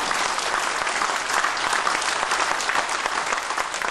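A school audience gives three principals a loud, dense round of applause, the clapping steady and enthusiastic throughout.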